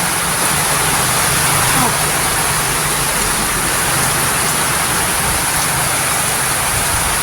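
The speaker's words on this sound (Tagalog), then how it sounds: "Parehang ulan dito, wala namang bagyo." Heavy rain pours down steadily, a dense, unbroken hiss that stays loud and even throughout.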